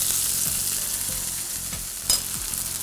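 Bean shoots and vegetables frying in hot oil, a steady close sizzle with a few stirring scrapes and no talk.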